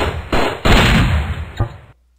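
A launcher weapon fires in the video game Raze 2 with two heavy booming blasts in quick succession, then a shorter thump, loud and close, before cutting to silence.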